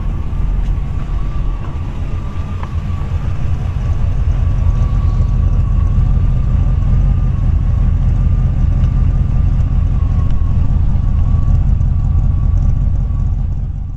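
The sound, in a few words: 1940 Ford Deluxe Woody Wagon engine running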